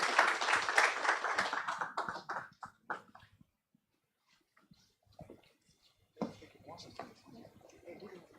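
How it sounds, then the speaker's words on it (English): Conference audience applause at a blockchain event, a dense burst of clapping that thins into scattered claps and fades to near silence, then talking resumes near the end. "Please let's give him a round of applause as he comes on stage."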